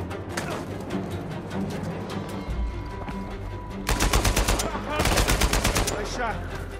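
Gunfire in Uncharted 4 crackles in rapid bursts that turn into loud, fast machine-gun volleys in the second half, with sparser shots and game ambience earlier.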